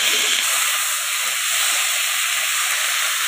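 Tomatoes hit a hot pan while cooking chicken curry, giving a loud, steady, close sizzling hiss that fills the whole stretch without pause and no voice over it.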